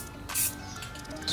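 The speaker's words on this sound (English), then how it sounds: "we're gonna test spray it right now" Quick hiss of spray paint test-sprayed onto a sanded, scuffed and degreased Acura TSX part, with two short bursts standing out over a steady background hum.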